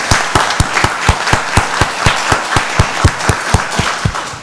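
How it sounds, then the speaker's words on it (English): Applause from an audience at a county board of commissioners meeting, a round of steady, fairly loud clapping with individual claps standing out in a regular rhythm, no talk over it. "Let's give them another round of applause."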